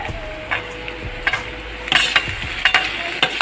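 Tomatoes tossed into softened cabbage frying in a pan, stirred with a utensil that scrapes and clinks against the metal in irregular strokes over a soft sizzle.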